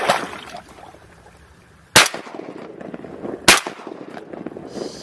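Two sharp, loud shotgun blasts ring out about a second and a half apart during a duck hunt, against a rustling outdoor background.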